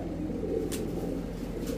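Pigeons coo softly and steadily in a low, murmuring drone at a pigeon market, with a couple of faint higher chirps.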